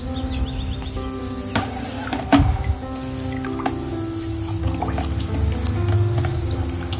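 Water poured and sloshed while cleaning a dirty aquarium sponge filter, with liquid gurgles, drips and a sharp knock midway, close and fairly loud.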